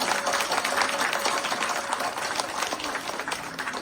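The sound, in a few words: audience applause for Suhas Dada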